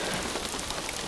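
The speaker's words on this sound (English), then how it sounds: "wacky rain patterns for sure." Heavy rain pours steadily during a June storm chase in Marshfield, Massachusetts, a dense, loud, close hiss that stays even throughout without any voices.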